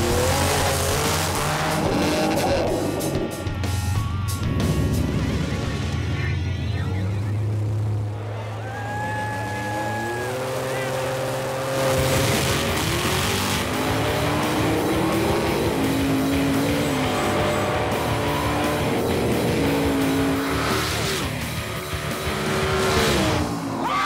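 Race cars roar through a close drag race at a Pinks All Out event, engines loud and rising in pitch with tire squeal and revving that shift steadily, while crowd noise and faint voices blend underneath.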